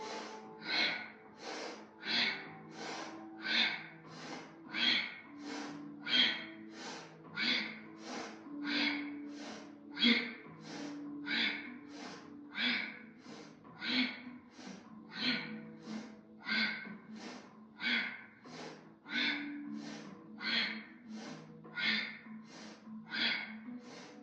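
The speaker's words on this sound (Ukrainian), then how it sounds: "додаємо грудне дихання, вдих, а видих, округлили спину" Deep chest breathing during a recovery exercise practice: slow, regular inhales and exhales repeat in a steady rhythm, close and quiet, with a soft voice occasionally murmuring between breaths.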